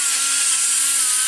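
High-pitched, hissing grind of a tool cutting the aluminum intake port roof of a 2013 LS3, steady and close for the whole short stretch with no talking.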